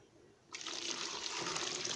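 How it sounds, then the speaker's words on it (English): Water pours into a liquid soap solution being mixed, starting abruptly after a quiet moment and continuing as a steady, close, rushing stream until the end, with no talk over it. "And you continue to add water"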